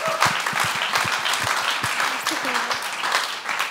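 Audience applause fills a stage hall for a talk about healthy friendships, a steady dense clapping that runs through the whole stretch, loud and close, with a host's voice talking over it.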